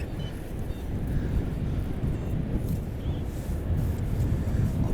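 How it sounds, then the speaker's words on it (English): Strong wind buffets the microphone outdoors during metal detecting, a loud, continuous low rumbling roar with gusty swells and no voices. "that wind is so strong, I'm struggling to hear anything"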